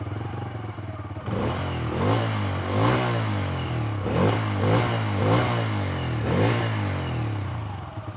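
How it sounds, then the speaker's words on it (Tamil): A Bajaj CNG motorcycle cranks briefly and then starts running in CNG mode, settling into a steady close idle with a few light throttle blips and no talking. "இப்போ நான் சிஎன்ஜி மோடில் ஸ்டார்ட் பண்ணி காட்டுறேன்."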